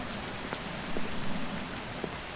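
Steady rain pattering on a surface, a dense even hiss with occasional louder drops, no voices.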